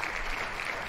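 Brief burst of applause in the horror game Chilla's Art Jisatsu, a short wash of clapping lasting about a second, moderately loud and alone.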